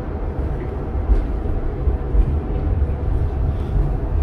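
Siemens Duewag U2 light rail train in Calgary on a cold January day, a deep low rumble with rattling that swells gradually and holds fairly loud and close throughout.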